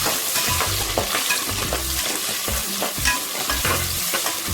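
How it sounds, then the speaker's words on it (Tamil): Onions and green chillies fry in a pan for mushroom biryani, giving a steady close sizzle with repeated stirring scrapes throughout and no talking. "பச்சை மிளகாய், ஆனியன் 2 போட்டுக்கலாங்க."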